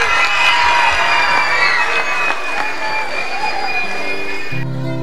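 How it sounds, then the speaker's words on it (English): An audience at a Christmas concert cheers and claps for the kangaroos, loud and close. Children shout and whoop over the clapping before it breaks off into music at the end. "A big round of applause for the kangaroos."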